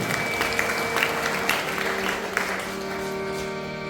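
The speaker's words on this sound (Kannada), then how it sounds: "ಜೋರಾಗಿ ಚಪ್ಪಾಳೆ ಬರಬೇಕು ಗೌರವರಿಗೆ." An audience at a gathering at a math (monastery) claps loudly, a dense burst of applause with scattered sharp claps that gradually thins toward the end.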